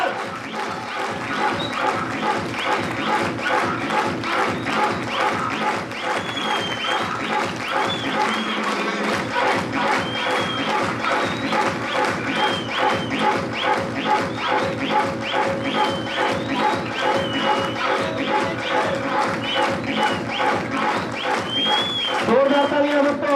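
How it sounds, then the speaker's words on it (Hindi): A crowd at a celebration event in Mughalsarai claps in a fast, steady rhythm that runs continuously, with someone talking loudly over the applause throughout. "पीछे से जोरदार तालियां, जोरदार"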